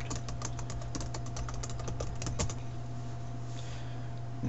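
Quick clicks of a computer keyboard tap out a short burst of typing for about two and a half seconds over a steady electrical hum, then stop, leaving the hum alone.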